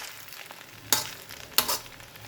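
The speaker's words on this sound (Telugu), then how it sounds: "ఇదన్నీ నూడిల్స్లో బాగా ఫ్రై అవ్వాలి కదండి" Veg noodles frying in a pan, with a faint steady sizzle and two brief loud bursts of stirring or tossing, close and with no talk.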